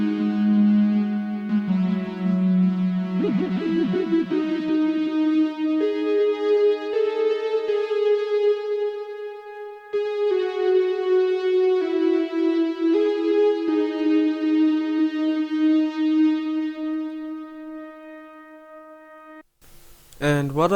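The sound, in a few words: three layered synth leads including sine lead from Xenology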